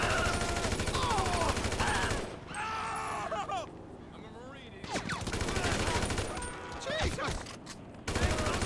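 Gunfire in GTA 5, bursts of rapid shots and a dense fusillade that drops out partway, then returns in sharp scattered cracks, loud and mixed with game sounds and voices.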